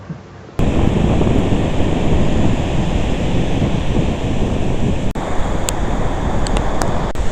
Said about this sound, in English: I'm on a beach. You can probably hear the waves.